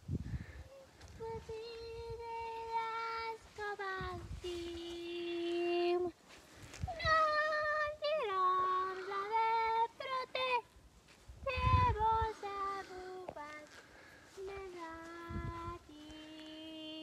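A cat meows repeatedly outdoors during a long hike, drawn-out tonal meows and cries coming in a series close to the listener, with low rumbling sounds in between.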